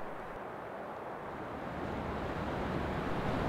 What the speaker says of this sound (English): the wind was howling